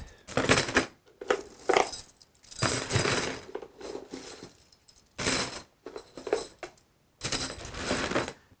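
A large set of Ford 8-cut tryout keys jangles and clinks in several separate metallic bursts with short pauses between them, close and fairly loud.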